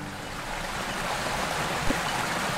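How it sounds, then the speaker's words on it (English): Water from the river flowing out of Malham Tarn in the Yorkshire Dales, a steady rushing wash that holds at an even level from start to finish, with no voices over it. "This is the river that comes out of Malham Tarn."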